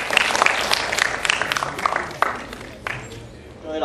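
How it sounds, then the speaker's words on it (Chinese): Applause from a school audience welcoming student presenters at a creative invention showcase, a scattered round of clapping with crowd noise that gradually thins out. "掌声欢迎。"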